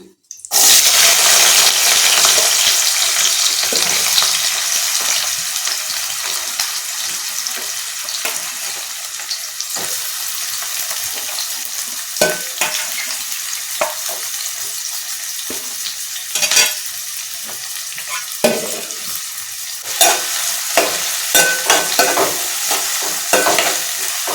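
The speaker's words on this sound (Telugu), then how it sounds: "ఉల్లిపాయలు వేపించుకుందాం." Chopped onions fry in a pan for a Gulivindalu sea fish curry, giving a loud, steady sizzle throughout, broken by the repeated scrape and clack of a spoon stirring them, with no talk.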